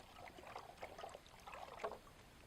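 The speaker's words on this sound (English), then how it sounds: "I'm just going to pour a little bit in" Lime powder poured from a kilo bag into water and stirred, giving a faint, soft trickling and swishing in short bursts, quiet and close with no talk.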